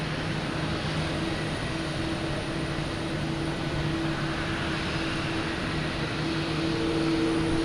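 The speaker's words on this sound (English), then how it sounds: "we got Aer Lingus passing in review here, coming in from Dublin" An Aer Lingus airliner in from Dublin passes by at Boston Logan Airport, a steady engine roar with humming tones, fairly close and continuous, slowly building toward the end.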